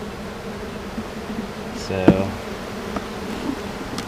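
A swarm of honeybees buzzing in and around a hive box, a steady low drone throughout, with a brief knock near the middle and someone speaking a word over it.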